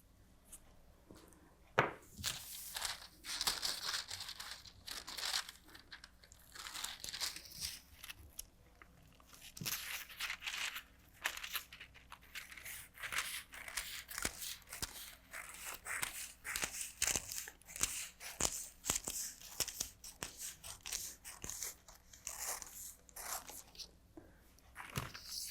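Paper pattern piece for a gored, ruffled dress being cut out with scissors, giving repeated crisp snips and crinkling paper rustles in an irregular rhythm, close and fairly quiet, with no talking.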